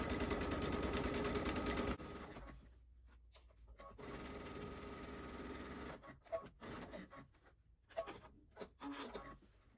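A serger sews a row of jelly roll quilt strips, a fast mechanical whir running steadily for two seconds, then in a longer stretch, then in short stop-start bursts near the end.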